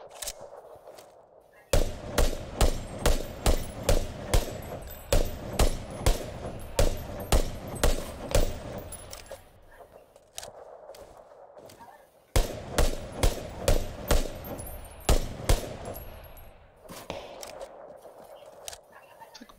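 Two long runs of rapid, evenly spaced gunshots from a squad match in a video game on the Miramar map crack out loudly, with quieter stretches between the volleys.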